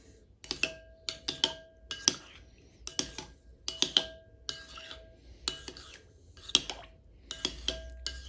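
Soap ingredients for handyman's soap mixed in a container, a steady run of quick tapping and clinking strokes in an irregular rhythm, close and fairly clear over a quiet background.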